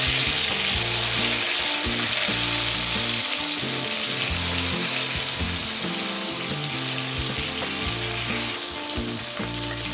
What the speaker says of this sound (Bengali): তেল গরম হয়ে গেছে, এবার আমি বেগুনের পিসগুলো ছেড়ে দিচ্ছি